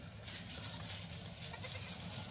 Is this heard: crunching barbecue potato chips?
no